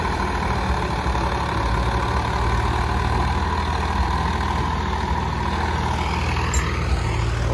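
A tractor engine runs loudly and continuously with a deep low rumble and steady drone while a trolley is loaded with wet soil at night, with no talk.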